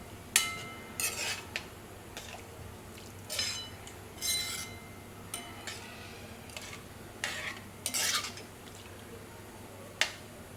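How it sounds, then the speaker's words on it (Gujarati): Sharp intermittent clinks of a spoon against a pan while sev curry is stirred, about a dozen irregular taps over a faint background, no voices. "બરાબર મિક્સ કરી લઈશું અને થોડી વાર એને ઉકળવા દઈશું"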